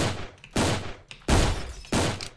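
Three loud, separate shotgun blasts from Island Royale, each a sharp crack followed by a brief decay. They arrive in an even rhythm with short gaps between them.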